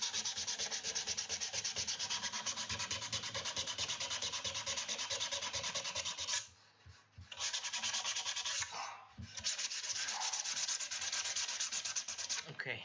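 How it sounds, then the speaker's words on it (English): Sandpaper rubs back and forth in steady, close strokes for several seconds. There are two short pauses before the scratchy sanding starts again. "Let's try with a bit of sandpaper."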